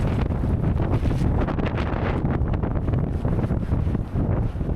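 Strong wind roars across a black sand beach in Iceland, a steady, loud rushing that buffets the microphone throughout, with no voices.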